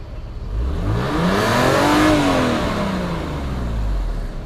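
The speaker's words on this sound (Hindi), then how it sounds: "तो ये इंजन साउंड आ गई जी" A Toyota Mark II Blit JZX110W station wagon engine running at normal temperature, a steady mid-pitched hum with a gentle swell in the middle, heard close and alone.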